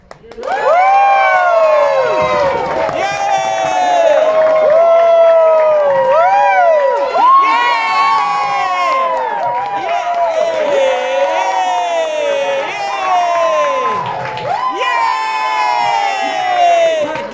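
A crowd at a celebration and honour lunch cheers, whoops and shouts continuously, with excited children's voices in the mix, loud and sustained throughout.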